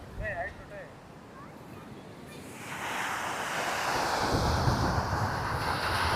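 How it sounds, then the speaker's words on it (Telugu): Surf at Baina Beach in Goa rolls in a continuous broad wash with wind buffeting the microphone, quieter at first and swelling louder after a couple of seconds. "ఇదేమొచ్చి పెద్దది బైనా బీచ్."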